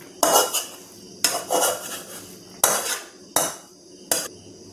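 Cooked bharangi greens are scooped from a kadhai onto a plate, five distinct bursts of metal spoon scraping and clanking against the pan, each a short loud scrape that fades before the next, close by and with no talk.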